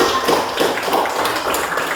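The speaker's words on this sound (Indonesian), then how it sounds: "Oke, tepuk tangan, berikan aplaus kepada." Students in a middle-school classroom give a dense, steady round of applause that fills the room from start to finish, with no pause or voice breaking through.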